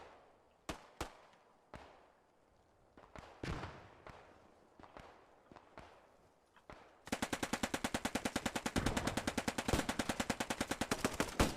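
Machine-gun fire in the Post Scriptum game battle: scattered single shots and short bursts for several seconds, then a loud, sustained rapid-fire stream of rounds, no talking.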